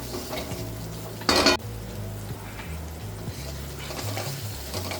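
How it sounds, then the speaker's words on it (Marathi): Peas fry in a pan and are stirred, a soft steady sizzle with a brief louder scrape of the spoon, no talking. "वाटाणा छान परतून झालाय."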